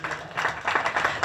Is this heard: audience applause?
yes